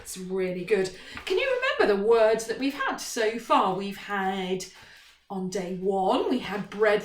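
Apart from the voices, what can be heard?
No distinct noise like a dog, phone or traffic.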